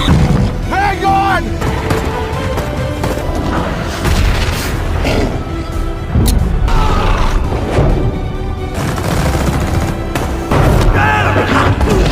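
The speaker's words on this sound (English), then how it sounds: "a massive explosion caused by Becker's sacrifice destroyed the facility" Massive explosion destroying a facility in a dinosaur action film, loud booming blasts and crashes piling up across the whole stretch, thick with low rumble and mixed with score and effects.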